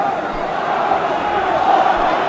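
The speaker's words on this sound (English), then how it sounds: "the crowd is starting to urge Patterson on" Boxing arena crowd at the 1972 Floyd Patterson versus Oscar Bonavena fight, a steady dense roar of cheering and shouting that swells slightly, sustained and fairly loud throughout.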